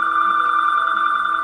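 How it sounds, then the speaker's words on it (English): A telephone ringing in a movie theater late at night, a continuous loud electronic ring tone, steady and close, with no voices. "Then the phone rang again."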